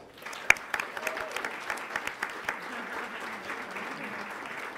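Audience members at a school board meeting clap for high school students, scattered sharp claps at first that thicken into a moderate round of applause, fairly close and fading slightly toward the end.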